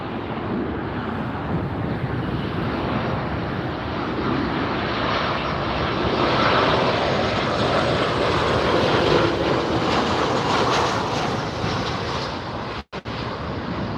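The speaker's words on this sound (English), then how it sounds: "We've got another arrival here." A large passenger jet arrives at LAX airport, its engine roar broad and continuous, swelling slightly as it passes nearby for about thirteen seconds, with no talking.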